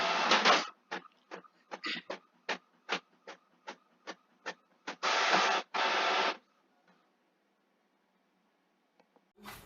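A printer runs off jewelry cards made with Cricut, starting with a burst of whirring, then a rhythmic series of about a dozen short mechanical pulses, two long feed whirs, and silence before a final click.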